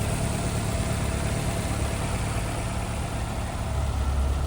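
A 1990 Lancia Delta Integrale HF 16v sits idling with the hood up, its engine holding a steady, even rumble at close range with a constant low hum and faint mechanical whir, and no voices.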